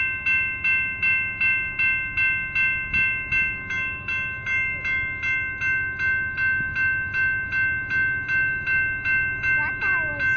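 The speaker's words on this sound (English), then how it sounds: "Ooh, it's a blue train." A BNSF freight train led by locomotive 2043 rolls steadily north past, with a regular clickety-clack rhythm of wheels over rail joints, a sustained tonal whine above it, and voices talking.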